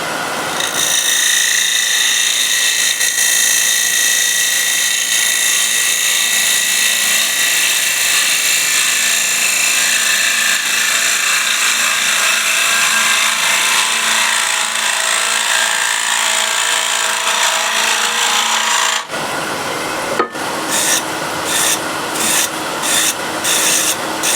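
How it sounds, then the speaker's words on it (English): A wood lathe turns an ebony piece while a small spindle gouge cuts it, giving a loud, steady rasping hiss for most of the stretch, then breaking into short rhythmic bursts near the end. "I'm going to use a small spindle gouge"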